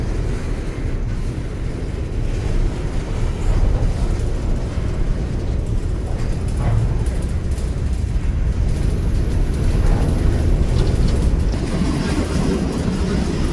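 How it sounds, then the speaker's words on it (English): A Burlington Northern coal hopper car rolls past on the rails with a steady, loud low rumble and faint wheel clatter, continuous throughout with no voices. "we'd see yet another Burlington Northern hopper. This one also being a coal hopper."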